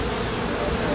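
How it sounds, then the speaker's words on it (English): A huge swarm of honey bees crowded in layers on a hive frame produces a dense, steady, close buzzing drone that fills the whole moment without letting up. "Look at all the bees in here."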